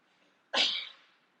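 A single sneeze bursts out sharply in a quiet room during a yoga class's calm, then fades over about half a second, with no talking around it.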